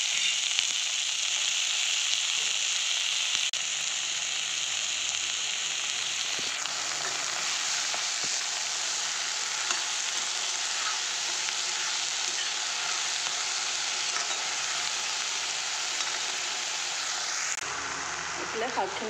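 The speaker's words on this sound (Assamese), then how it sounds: "এতিয়া শাকখিনি দি দিছোঁ।" Leafy greens frying in a hot pan with potato and tomato, a steady loud hiss and sizzle throughout, close up, with occasional stirring.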